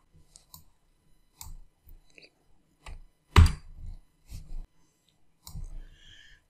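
Computer mouse clicks while working in Tinkercad, a handful of separate short dry clicks spaced irregularly across the stretch, close and fairly crisp with quiet gaps between them.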